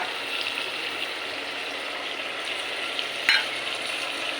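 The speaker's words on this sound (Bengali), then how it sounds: "এরপরে আমি দিয়ে দিচ্ছি গরম মশলা বাটা।" Garam masala paste frying in a pan for Bengali mutton and chicken kosha, a steady close sizzle throughout with a brief louder crackle near the end, no talking.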